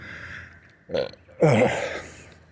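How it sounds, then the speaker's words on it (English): A burp on an outdoor evening walk: a short throaty croak followed by a longer, louder rumbling belch, close by, over faint background noise. "Burp program initiated."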